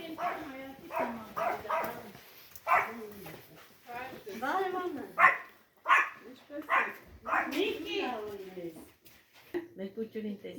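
A dog barks and yips repeatedly in short bursts, mixed in with people talking nearby.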